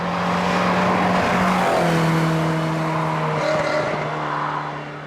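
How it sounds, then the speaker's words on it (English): Ferrari 308 GTS carburettor engine on narrow British B roads, a loud, continuous intake and engine drone heard from inside, pitch rising and shifting with gear changes, alone with no talk. "Just that intake noise, it's just fabulous."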